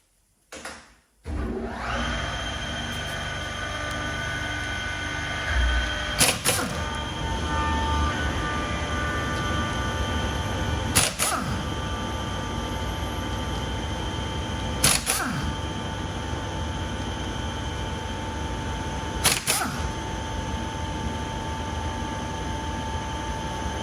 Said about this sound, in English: I'm going to have to turn the compressor on.